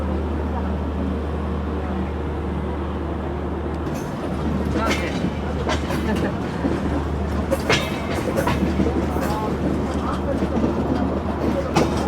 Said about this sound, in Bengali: আমাদের ট্রেন এই মুহূর্তে এসে দাঁড়ালো ঈশ্বরদী বাইপাস রেলওয়ে স্টেশনে